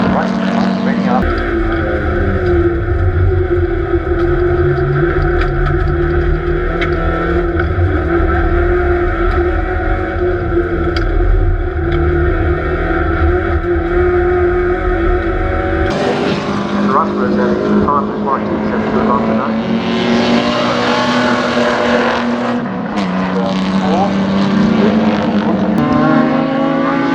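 Race cars speed past during an evening race at Baskerville, with loud, continuous engine drones that rise and fall in pitch as the cars pass. The tone shifts sharply partway through.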